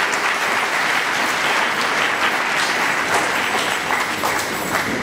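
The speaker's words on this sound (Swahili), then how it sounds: "Tuchape tena makofi." A church pastors' seminar audience claps loudly and steadily throughout, a dense continuous roar of applause from a large crowd, with no talk over it.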